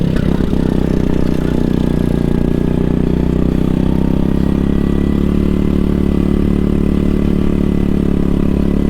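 A go-kart engine at an indoor karting track in Lahore drones loudly and steadily, a close, continuous buzzing roar with rattling texture throughout.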